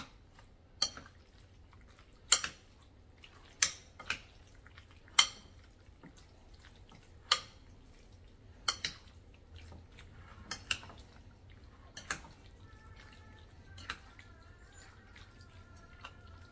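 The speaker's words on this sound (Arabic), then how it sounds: "نقلب بقى كل المكونات دي ببعضها." Egyptian shawarma ingredients being stirred together in a bowl, giving a series of sharp metallic clinks and taps at an uneven pace with soft wet shuffling between them and no talking.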